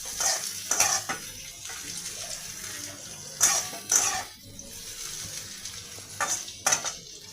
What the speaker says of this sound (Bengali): পেঁয়াজগুলো অল্প ভেজে নেব।